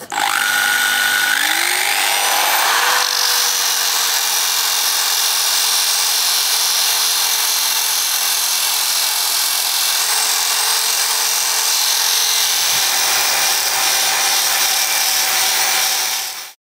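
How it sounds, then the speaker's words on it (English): A wire wheel on a grinder strips old anodized coating from aluminium, the motor whining up to speed and then holding a loud, steady, abrasive roar before spinning down. "I'm afraid I had to resort to the wire wheel"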